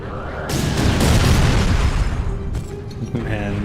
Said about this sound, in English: Man, the explosions are just incredible.